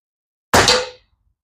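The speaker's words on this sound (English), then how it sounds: "That also was quite the blast down there on the metal." A pellet from a 1973 Sheridan Blue Streak air rifle strikes a metal target in a single sharp, loud clang that rings briefly and decays within half a second, alone against silence.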